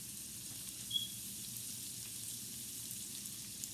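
Shrimp sizzle in a hot skillet with a soft, steady, hissing crackle. The sound is fairly faint and close, with a few tiny pops and no talking.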